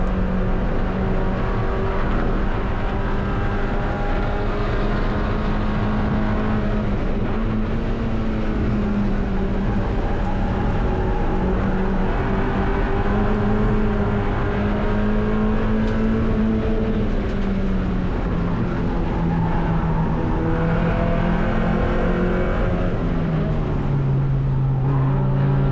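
Race car engine during a NASA race at MSR Cresson, a loud sustained in-cabin drone whose pitch rises and falls through gear changes and braking, with no talk.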